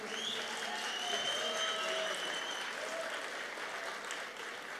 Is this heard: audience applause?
yes